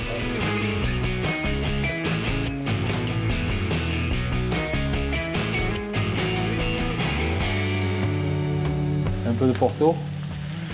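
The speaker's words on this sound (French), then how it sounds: "On les fait sauter un peu au blanc, avec une persillade et des échalotes." Snails sautéing in a pan with persillade and shallots give a steady, close sizzle that runs throughout, partly masked by background music and a brief spoken remark.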